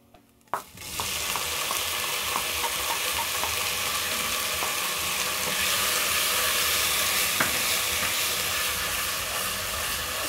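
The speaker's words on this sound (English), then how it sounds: "My garlic and onions are ready, so I'm going to add in tomatoes." Chopped tomatoes drop into a pan of frying garlic and onions, a brief clatter followed by loud, continuous sizzling and stirring with no voices.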